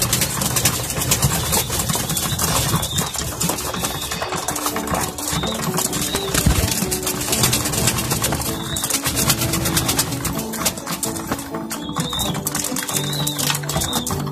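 Pet pigeons and other caged birds fill a loft with steady, dense chatter and cooing, layered with clicks and rustling, continuous and fairly loud throughout without any talking.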